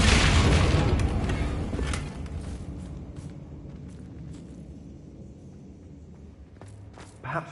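A fiery Confringo spell explodes in Hogwarts Legacy, a loud broad boom that rumbles and slowly fades, followed by scattered small impacts and a brief thud near the end.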